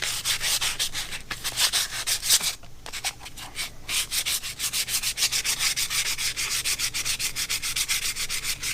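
Light hand sanding on the corroded prop shaft of a 2000 Yamaha 60hp outboard, a close, steady run of rhythmic rasping strokes with one brief pause partway through, heard alone.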